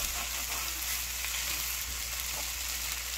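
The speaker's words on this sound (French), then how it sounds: "le temps que je suis vraiment en train de tourner mon riz" Rice and shrimp frying in a pan while being stirred over reduced heat, a steady close sizzle that runs unbroken throughout with faint scraping of the stirring.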